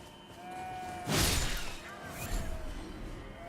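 Sheep bleating in the video game Elden Ring, one sharp burst followed by a softer call, heard over game sounds and background noise.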